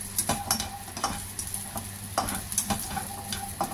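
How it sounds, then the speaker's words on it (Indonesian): Peanuts fry in hot oil for Indonesian peanut sambal, a steady close sizzle broken by regular clicking stirs against the pan, heard alone without talk. "Ini digoreng, goreng sebentar."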